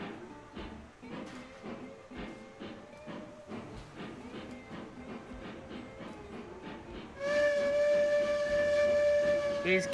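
Steam locomotive in the railway game Railroads Online, chuffing in a steady rhythmic beat before a loud, sustained steam whistle blows near the end, with no speech over it.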